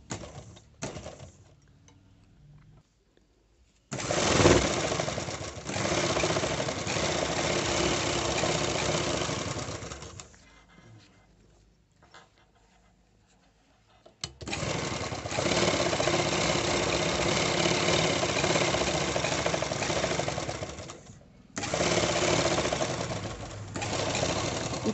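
A sewing machine runs in two long bursts, stitching a half-inch fold along the bottom of a collar piece for a uniform, its rapid motor whir steady and close with quiet pauses between runs.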